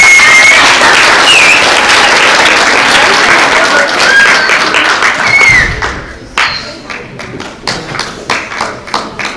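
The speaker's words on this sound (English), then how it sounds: "Give him a round of applause." A school math bee audience applauds the runner-up with a loud, dense wash of clapping and cheering that drops away after about six seconds, leaving scattered individual claps and thumps.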